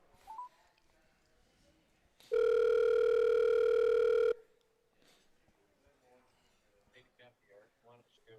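A single sustained telephone tone sounds for about two seconds as an outgoing phone call connects, loud and steady, with voices talking before and after it.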